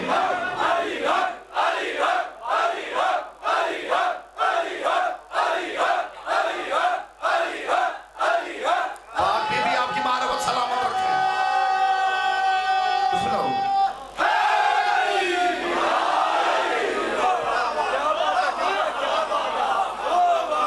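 A large crowd of mourners at a Shia religious gathering chants loudly in rhythmic unison, bursts repeating steadily, then gives way to a sustained tone and a swell of cheering voices.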